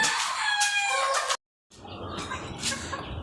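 A rooster crows loudly and chickens cluck nearby at a modern poultry farm housing several breeds, including Egyptian Fayoumi hens. The sound breaks off for a moment of silence, then softer clucking continues.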